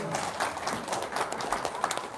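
Audience members clap at a gathering, a loose, uneven patter of individual claps of moderate loudness, with a voice or two audible beneath.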